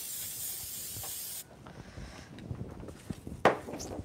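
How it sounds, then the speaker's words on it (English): An aerosol can of pro spray hisses steadily onto a pillowcase being prepared for sublimation, one continuous burst of about a second and a half, then stops and gives way to quiet handling and rustling. "So we're going to spray it with a little bit of pro spray."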